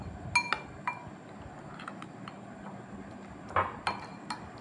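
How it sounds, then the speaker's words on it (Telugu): Henna powder being stirred into a herbal decoction in a bowl, heard as scattered light clinks and taps of a spoon against the bowl over a faint background hiss. "డికాషన్లో గోరింటాకు పొడిని వేసి కలుపుకోవాలి"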